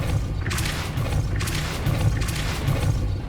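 A Depulso spell is cast in the video game Hogwarts Legacy, producing deep booming thumps and bursts of noise over a dense, continuous game soundscape, with no voices.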